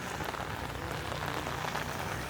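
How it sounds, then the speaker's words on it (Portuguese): Rain pours on a rainy late night in downtown São Paulo, a dense, loud, even patter and hiss of drops on surfaces that fills the scene without a break, with no voices. "Uma noite chuvosa, inesperada."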